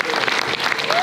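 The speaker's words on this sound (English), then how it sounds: "round of applause for these talented individuals" An audience applauds the cast of The Slumber Party at a Q&A screening, a thick, continuous burst of clapping with a faint voice carrying above it.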